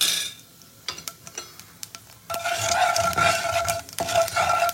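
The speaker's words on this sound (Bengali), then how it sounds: "দেবো প্রথমে কালো জিরে ফোড়ন" Nigella seeds dropped into hot mustard oil for a fish curry, first a few light scrapes and clinks of a utensil, then a sudden loud, steady sizzle that continues with occasional stirring sounds.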